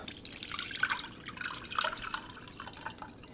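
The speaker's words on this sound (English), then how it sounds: "now I'm just going to pour it into a sieve" Juice pours and trickles steadily into a sieve, with splashy dribbling and small drips throughout, close by and fairly quiet, no voices.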